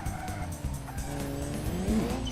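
A car with an L28 six-cylinder engine in the BeamNG driving game roars steadily at high revs while its tires squeal in a continuous skid, loud and close.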